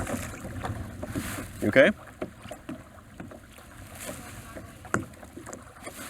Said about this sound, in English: All right, start paddling your right side only.